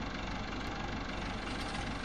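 A tractor engine idles steadily in Farming Simulator 15, a low continuous chugging drone at constant level with no other sounds.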